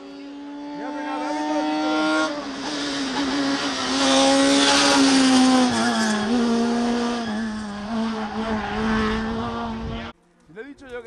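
A rally car at the Villajoyosa 2008 rally roars past at speed, its engine note rising loud and close for several seconds before cutting off abruptly, with spectators shouting over it.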